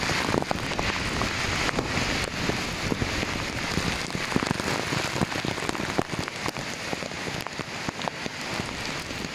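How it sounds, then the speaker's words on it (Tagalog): Heavy rain from Typhoon Kristine lashes down hard with gusting wind, a dense roaring wash of drops and crackling splatter that never lets up. "Ang hangin."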